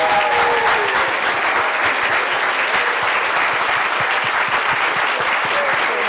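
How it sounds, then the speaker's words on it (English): Loud, sustained applause from a large audience at a university event with Palestine-focused speakers, a thick, even wash of clapping filling the whole stretch, near and continuous with no talk on top. "Can they all get a very generous last round of applause"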